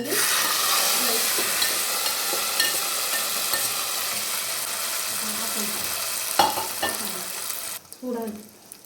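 A spoon stirs hot ven pongal as a fresh tempering is mixed in, a steady close sizzle running throughout with soft scraping strokes and a few sharper knocks against the pot near the end.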